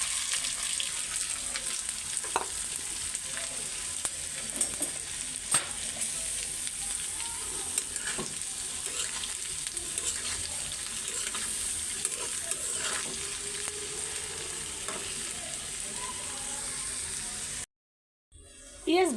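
Onions fry in hot oil for a dried-fish bhuna, a steady close sizzle with scraping stirs and occasional clinks running throughout, cutting off abruptly near the end.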